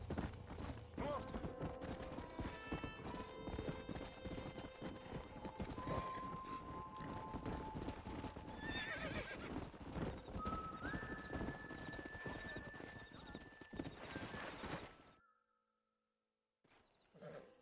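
Horse hooves clip-clop steadily with whinnies in the Red Dead Redemption video game, loud and continuous over a music bed, before cutting to near silence near the end.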